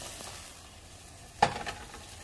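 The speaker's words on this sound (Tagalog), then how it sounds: "ilagay na natin dito yung ating sitaw at kalabasa." String beans and squash going into a pan for a Filipino laswa vegetable dish, a faint quiet simmer with one sharp clatter of the vegetables dropping in followed by a brief burst of sizzling.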